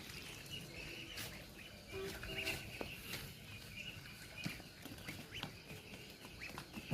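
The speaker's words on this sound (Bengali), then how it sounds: "চীনা হাঁসগুলোও বড় হয়ে গেছে" Chinese ducks on a farm in Bangladesh give faint, scattered quacks and calls over a quiet outdoor background, with no one speaking.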